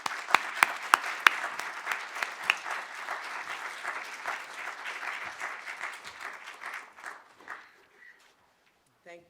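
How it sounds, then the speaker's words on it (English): An audience gives a warm round of applause for a keynote speaker at an academic lecture, opening with a few loud near claps, then dense clapping that gradually thins and fades out, with a voice briefly audible at the end. "let's give Dr. Boyce-Davies a warm round of applause"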